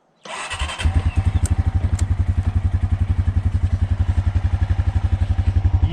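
Quad bike engine firing up and settling into a steady, loud, rapid chugging beat during an outdoor ride, close to the listener with no talking.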